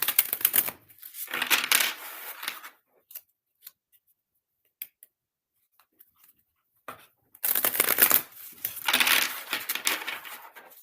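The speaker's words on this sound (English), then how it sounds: "Some tarot card ASMR." Tarot cards riffled and shuffled in two dense bursts at the start and end, with scattered light taps and card handling in the quiet between, close and soft with no talking.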